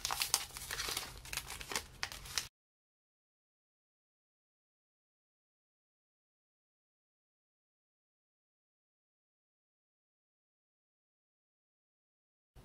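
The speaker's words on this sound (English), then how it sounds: "let's get this cash out." Paper cash bills, including $5 and $20 notes, crinkle and rustle as they are pulled out and handled for budget envelope stuffing, a busy close burst of crumpling for about two seconds before silence.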